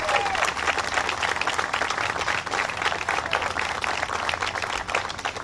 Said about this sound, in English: Let's give Anthony Goicoliev another round of applause.